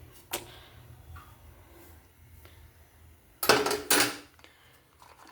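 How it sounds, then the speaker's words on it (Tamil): A spoon knocks and scrapes against a pot while food colouring is stirred into milk, with a few sharp metallic clinks and a louder burst of scraping near the end, no talking. "இது மாதிரி ஒரு கரண்டி வச்சு ஃபுட் கலர் ஊற்றி நம்ம வந்து இது கிண்டி விட்டுப்போம்."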